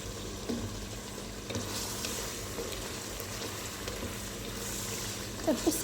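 Meat sizzles steadily in a hot pan with a soft, continuous frying hiss, and a few light stirring scrapes and clinks come near the end; no talking.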